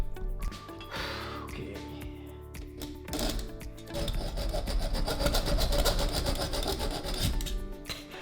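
Aluminum light bar mount being cut by hand with a saw for an LED light bar install on a classic Mini, a steady rasping back-and-forth scrape that builds louder in the second half, close to the mic.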